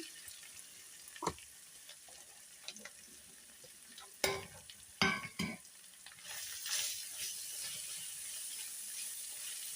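Cabbage tipped into a pan of fried onions: a few sharp utensil clatters and scrapes, then a steady sizzle that swells near the end, close and fairly quiet.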